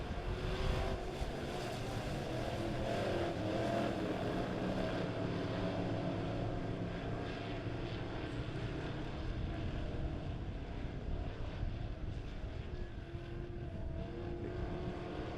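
Dirt track modified race cars in a B-Class heat at Springfield Raceway roar together at a distance, a dense, continuous engine drone rising and falling as the pack circles the quarter-mile oval.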